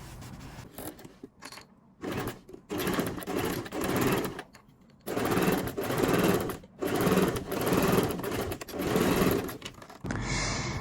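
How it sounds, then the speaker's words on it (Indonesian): A sewing machine stitching the twice-folded bottom hem of men's trousers, running in loud close bursts of rapid stitching separated by short pauses. "Nah, ini bawahnya dijahit."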